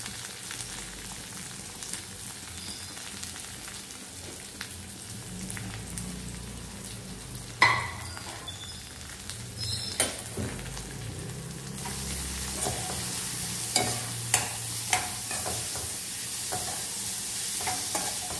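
Onion, carrot and other vegetables sautéing in tempering oil: a steady background sizzle with clinks and scrapes of a spatula stirring, loudest in the second half.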